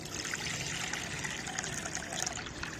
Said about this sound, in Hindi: मैं पानी भर लेती हूँ